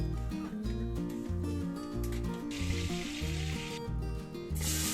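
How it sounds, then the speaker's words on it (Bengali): Oil and butter sizzle as they heat in a pan for Bengali dhaba-style matar paneer, a steady frying hiss layered over continuous background music, with brief louder bursts of crackle. "এখন 1 টেবিল চামচ তেল আর 40 গ্রাম মাখন গরম করব।"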